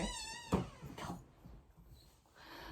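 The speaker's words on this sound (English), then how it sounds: "my mum just dropped my cat in" A house cat gives a drawn-out meow close by in a quiet indoor room, followed by soft rustling and faint background noise.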